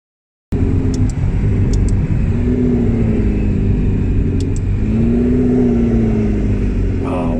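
An exotic sports car engine revs steadily and loudly up close, a sustained throaty drone with slow rises in pitch, starting abruptly after a moment of silence, with a few faint sharp clicks above it.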